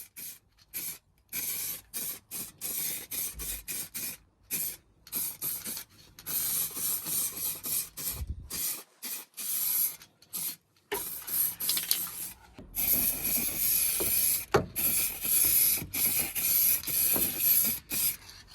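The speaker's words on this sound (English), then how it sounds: "we'll get some wax oil and spray that on there as well" Aerosol wax oil is sprayed onto bare metal inside a Vauxhall Nova, a close hissing spray in many short irregular bursts, then a longer, denser run of spraying toward the end.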